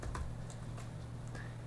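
Keys clack on a computer keyboard while code is typed into the Sublime Text editor for an HTML and CSS page, a few quiet scattered taps over a steady low hum.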